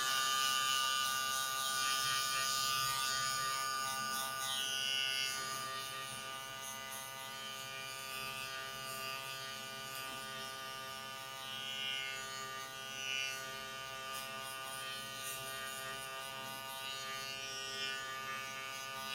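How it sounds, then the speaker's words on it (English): Electric hair clipper trimming afro hair during a haircut, a close, steady high buzz with a harmonic whine that shifts slightly as the blade moves through the hair, running continuously with no voices. "follow with the trimmer and shaver here first"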